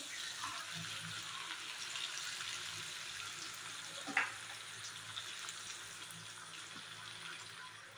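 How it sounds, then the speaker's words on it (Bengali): Chicken stirred and fried in a pan with ginger-garlic paste, onion, garlic and green chilli, a faint continuous sizzle with one brief scrape of a spoon, quiet and close. "এখানে চিকেনটাকে একসাথে মশলাটার সাথে নেড়ে চেড়ে নিয়েছি"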